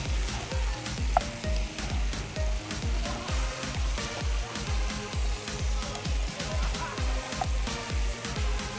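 Chopped carrots sizzling and frying in a pan while being stirred, a steady hiss broken by regular scraping strokes of the spoon, close and moderately loud with no talking.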